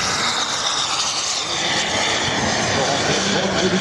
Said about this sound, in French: Regardez le décollage. Et voilà, l'un des plus étonnants avions jamais conçus.